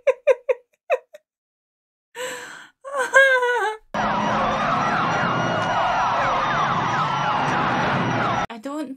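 Short gasps and voice sounds, then a loud wailing police car siren from the film The Blues Brothers (1980) sweeps up and down continuously for several seconds before cutting off abruptly.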